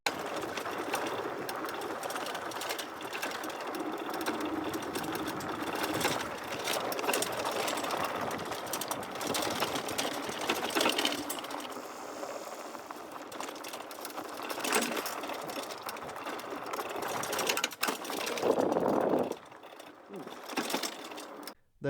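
A Jasion Patrol e-bike with a hub motor rolls down a dry, rutted dirt road, with a steady whirring motor whine under constant rattling and clattering over bumps, and a few louder jolts near the end.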